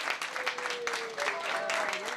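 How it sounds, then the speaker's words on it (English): Applause and cheering from a crowd greeting an arriving aircraft, a steady dense wash of clapping for a couple of seconds with a faint tonal sound running through it. "applause"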